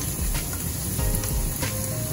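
Garlic and crushed chili peppers sizzle steadily in a hot pan before fish is pan-seared Mediterranean style, a loud, continuous crackling fry with no talking.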